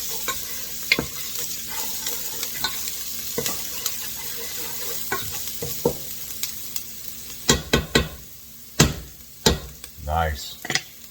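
Garlic sizzles in a pan under a steady hiss while a utensil stirs and scrapes, with sharp knocks against the pan growing louder and more frequent toward the end.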